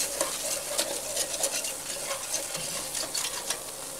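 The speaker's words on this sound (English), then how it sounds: "whisking it together into a roux" Butter and flour being whisked into a roux in a pan, with a soft continuous sizzle and a quick, even rhythm of whisk strokes, close and fairly quiet.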